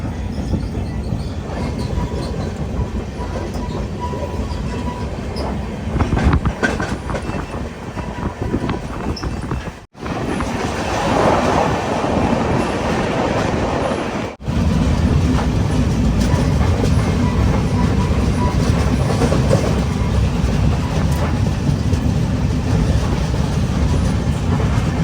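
Netravati Express passenger train running on rails on the Thiruvananthapuram to Mumbai route, approaching Ratnagiri station, with a loud continuous rumble and rattle of wheels and carriages, steady throughout with two brief sharp dips.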